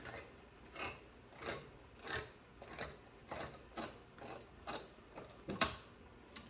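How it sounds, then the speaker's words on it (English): A fancy can opener struggles against a can, giving a run of repeated ratcheting, clicking strokes in a steady rhythm, close and moderately loud, with no talking. "This is nice fancy can opener. It don't want to work right."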